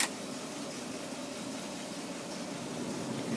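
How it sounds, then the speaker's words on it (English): The air conditioning fan motor of a 1962 Cadillac Coupe deVille, converted to newer refrigerant, blowing with a steady broadband hiss from inside the cabin, constant and moderately loud throughout. "you can hear the fan motor blowing, blows cold."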